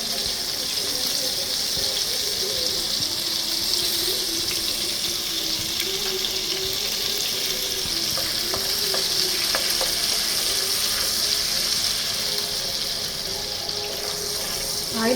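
Butter melts into hot oil in a pan, a continuous bright sizzle and crackle with faint spatters throughout, steady and close with no talking.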